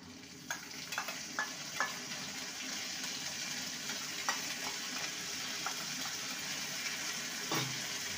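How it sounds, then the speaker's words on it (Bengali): Ginger paste frying with lightly fried onions in a pan for a Katla fish posto dish, giving a steady soft sizzle with scattered stirring clicks and scrapes and one louder clatter near the end. "আদাটাকে ভালো মতন কষিয়ে নেব।"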